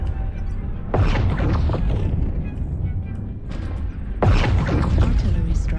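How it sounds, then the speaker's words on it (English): Artillery strike explosions in MechWarrior Online land as two big rumbling blasts, each a sudden loud boom that rolls on and slowly decays, under steady low battlefield noise with voices talking. "Artillery strike online."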